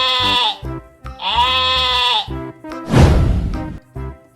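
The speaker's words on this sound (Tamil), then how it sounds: "வெள்ளாடோட சத்தம் எப்படி இருக்கும்னு தெரியுமா?" A goat lets out two loud, wavering bleats close by, followed by a short, noisy rasping burst and a few softer sounds.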